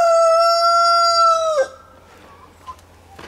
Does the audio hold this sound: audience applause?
no